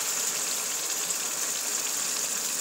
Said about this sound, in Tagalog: lagyan natin ng tubig para naman